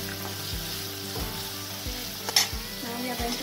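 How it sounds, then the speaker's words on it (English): Capsicum (shimla mirch) frying on a hot tawa over high flame, a steady close sizzle broken by regular scraping stirs about every second, with no talking. "We'll add the shimla mirch and cook."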